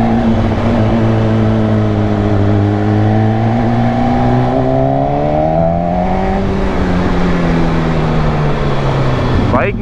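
An MV Agusta F4 superbike with an inline-four engine and stock exhaust drones loudly and close while riding, its pitch rising and falling steadily under wind noise.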